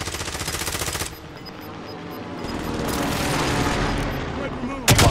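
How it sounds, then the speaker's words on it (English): Heavy gunfire and explosive booms during a precision airstrike in a Call of Duty Warzone battle royale match on Fortune's Keep, loud and dense, with rapid bursts at the start and a sharp blast at the end, mixed with game voices. "Allied precision airstrike incoming."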